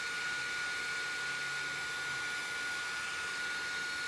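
A heat tool runs at top speed to heat set watercolor paint on a scrapbook piece, giving a steady, continuous blowing hiss with a whine that holds unchanged throughout.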